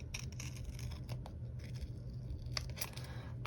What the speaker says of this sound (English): I'm going to cut this one in half